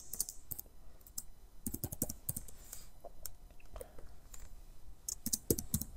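Computer keyboard keys clatter in irregular bursts of clicks while text is typed into an Excel spreadsheet cell, close and fairly quiet, with short pauses between runs of keystrokes and no talking.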